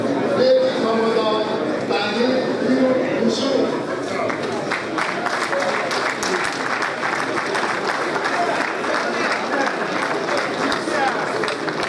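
Graduation ceremony audience clapping, a dense sustained round of applause from a crowd that swells slightly and carries on steadily with no talk over it.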